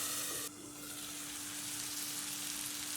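Tomatoes and tamarind for a spicy hotel-style tomato chutney sizzle and fry in a pan as they are stirred, a loud continuous close crackling hiss with a brief scrape at the start.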